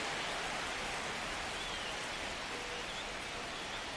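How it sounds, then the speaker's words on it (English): Steady, dense rain hisses over a ballpark in the video game MLB The Show, an even wash of falling water with no voices. "This rain is not letting up."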